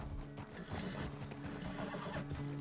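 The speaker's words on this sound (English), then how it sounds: "The horse can feel your fear." A horse in Red Dead Redemption 2 whinnies and snorts over muffled hoof clatter, a close, steady burst with no talking.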